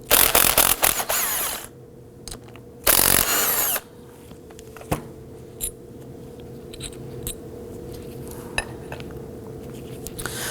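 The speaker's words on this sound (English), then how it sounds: "We're going to use a 14mm socket to loosen and remove these bolts." A 14mm socket on a power tool loosening the brake caliper slide pin bolts on a 2005-2009 Subaru Legacy, with two loud, close bursts of whirring followed by metallic clinks and light handling in a quiet garage.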